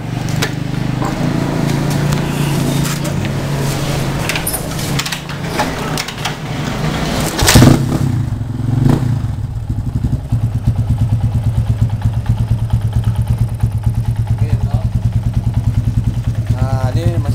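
A Yamaha Scorpio motorcycle engine kick-started by foot after an electric starter fault, turning over with rough mechanical clatter before settling into a loud, close, steady low idle.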